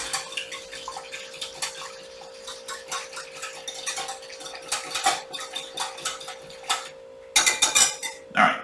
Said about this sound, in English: we're going to gently whisk this together